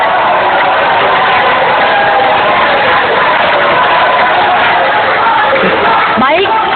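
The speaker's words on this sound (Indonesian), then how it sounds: "kita beri tepuk tangan untuk kedua calon gubernur" A loud crowd at a debate between two governor candidates cheers and shouts, a dense roar of voices that stays at the same level throughout, with brief whistles near the end.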